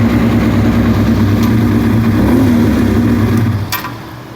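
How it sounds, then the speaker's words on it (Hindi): A 2003 Suzuki GSX-R 750 motorcycle engine idles steadily and loudly close by after starting, with a constant low rumble that fades slightly near the end; no one talks. "मोटरसाइकिल स्टार्ट हो गया है।"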